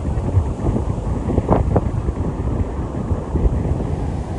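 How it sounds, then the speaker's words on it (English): Ocean surf roars steadily against a New Zealand shoreline, a continuous close rumble with wind buffeting the microphone throughout and no voices. "the roar, the pounding of the surf, tickling and dancing along the shores."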